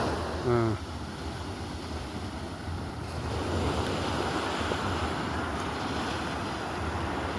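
Ocean waves wash steadily onto a clean, calm beach at Kayal, with a continuous surf roar and wind buffeting the microphone throughout.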